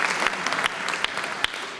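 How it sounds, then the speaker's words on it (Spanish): Crowd applause at a film teaser presentation, a brief burst of dense clapping with a few sharper individual claps standing out, moderately loud and without talk. "Entonces, el aplauso para ustedes."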